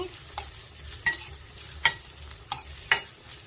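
Onions sautéing in ghee, turning toward a deep maroon colour while stirred in a pan for a drumstick-leaf biryani; a soft steady sizzle under several sharp spatula scrapes and taps, close and alone.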